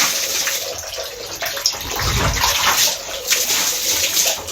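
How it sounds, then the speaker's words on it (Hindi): Water splashing and gushing over a floor or basin while cleaning the spot set aside for washing clothes by hand at home in India, a steady wet wash with a louder surge partway through, close and alone without talk. "जगह को थोड़ा सा साफ कर देते हैं जहाँ पे मैं कपड़े धोने वाली हूँ।"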